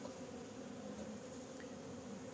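Honeybees buzz around an open beehive while a comb frame is added. The buzzing is a steady, faint hum that continues without a break and has no voices over it.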